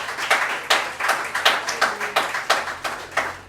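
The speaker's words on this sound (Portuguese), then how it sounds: "Então nessa hora aplauda o Senhor com o seu melhor" Church congregation clapping in a steady rhythmic beat, about four claps per second, moderately loud with a hall-like ring and no voices over it.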